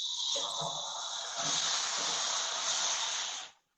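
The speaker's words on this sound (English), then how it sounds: "I want to sizzle. Can you hear it?" A loud, steady hiss of pork sizzling on a hot grill lasts a few seconds, then cuts off abruptly.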